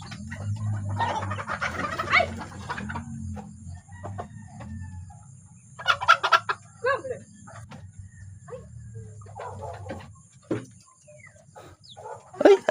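Chickens clucking and a rooster crowing in bursts, nearby, with quiet low murmuring in between.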